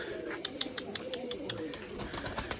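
Erzurum white pigeons coo softly in a loft, with low repeated coos under a steady background and scattered short bright chirps and flutters, faint and at a moderate distance.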